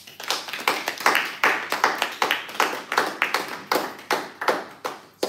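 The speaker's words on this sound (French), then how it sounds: "Applaudissons pour Jésus-Christ." A church congregation at a Sunday service applauding, a run of loud, rhythmic, evenly spaced claps that carries on throughout, close and without talk.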